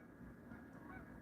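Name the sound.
geese honking while flying at night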